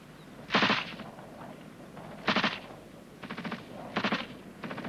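Machine gun covering fire during an infantry section assault, heard as four short bursts of rapid shots spaced about a second or more apart, moderately distant and fairly faint, with no talking.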